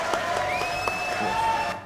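Studio audience applauding a singer-songwriter guest on a French TV show, a steady broad clatter of clapping with a faint tonal whine running through it, fading out at the end.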